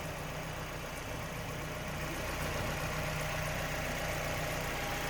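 A 2001 Mazda MX-5 Miata's 1.8-liter four-cylinder dual overhead cam 16-valve engine idles with the hood open, a steady, even hum with no change in speed and no voices.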